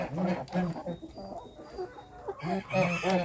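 Bantam chickens cluck in quick repeated bursts close by, busy and overlapping, with a short quieter stretch in the middle before the clucking picks up again.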